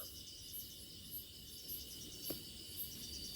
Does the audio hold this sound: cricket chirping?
yes